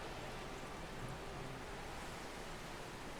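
Rain in the storm-chasing game OutBrk falls as a steady, even wash of hiss, soft and unbroken throughout, with no speech over it.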